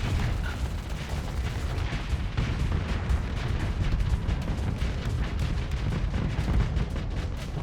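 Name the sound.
ship weapons firing in the video game Starsector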